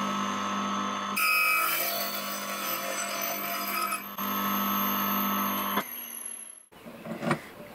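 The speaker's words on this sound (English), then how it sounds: "So what I'll do is feed this into the sanding disc and see how it copes." A loud, steady grinding rasp from a sanding disc machine as a metal girder is pushed against the disc, cutting out briefly and dropping off near the end.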